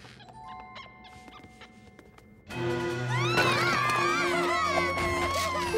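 A cartoon crowd screams and shouts together inside a crumbling castle, a loud sustained wall of overlapping voices that rises suddenly after quieter scattered sounds.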